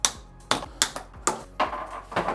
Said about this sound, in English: And we'll start popping these zip ties.